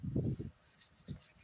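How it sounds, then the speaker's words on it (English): Wood being sanded by hand, heard as a few short, close rasping strokes in quick succession with brief pauses, with no voices. "he ain't scrolling; he's sanding."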